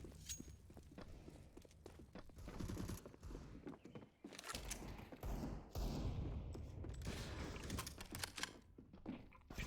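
Gunfire bursts and footsteps in a Counter-Strike match, dense clattering shots and thuds throughout at steady loudness, with brief scuffles and impacts layered together.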